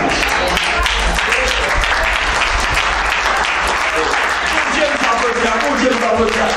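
A church congregation claps and cheers in praise during a worship service, sustained loud applause with a lively rhythm and voices mixed in throughout.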